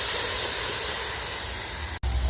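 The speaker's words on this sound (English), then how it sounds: "Steam up these veggies a little." Baby corn, water chestnuts and other vegetables steam on a Blackstone hibachi griddle for a teriyaki chicken stir-fry, making a loud, close, continuous hiss that cuts out for an instant near the end.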